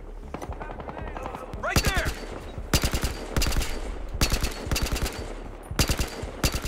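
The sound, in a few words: gunfire in the video game Battlefield Hardline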